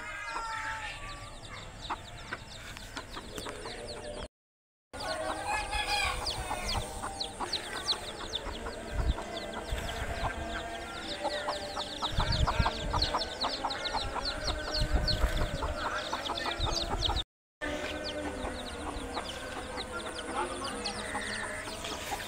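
Chickens and chicks cluck and cheep steadily while foraging on grass in an open field, with a rooster crowing at times; a busy, fairly close flock chorus with outdoor background noise.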